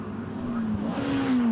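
Lotus race cars accelerate along the Bramham Straight at Brands Hatch, a steady rising engine drone that grows louder over a short stretch, heard alone.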